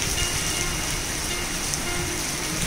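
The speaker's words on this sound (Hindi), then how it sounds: "बहुत भयंकर बारिश।" Heavy rain pours steadily in a broadband, dense hiss of drops striking surfaces, loud and unbroken throughout with no voices.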